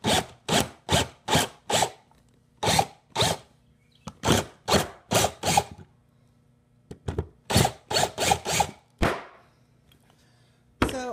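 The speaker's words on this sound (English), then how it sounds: "I just drilled it out some, but you know, careful not to like damage the plate." Drill working a roller skate pivot cup out of a skate plate, heard as repeated short grinding bursts in quick groups of four or five, separated by brief pauses, close and fairly loud, with no speech.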